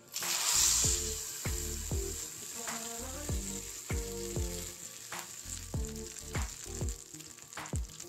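Tempering sizzles in hot oil for chutney, a steady crackling fry close up with a few scraping stirs and clinks, no voices.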